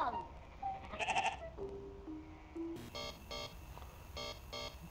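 In the video game Amanda the Adventurer, a cartoonish sheep bleats briefly near the start, followed by faint synthetic tones and a run of repeated chime-like beeps, all fairly quiet.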